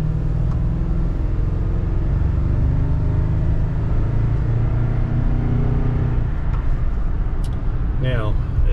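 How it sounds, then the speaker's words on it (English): A 2021 Toyota Tundra's V8 rumbles steadily with a deep, building engine tone heard from inside the cab, loud and sustained, while someone talks over it. "V8 does sound good."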